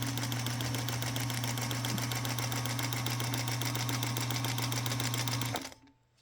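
A Singer Featherweight sewing machine runs steadily while free motion quilting, its needle chattering in a fast even rhythm under a constant motor hum, then spinning down to a stop near the end.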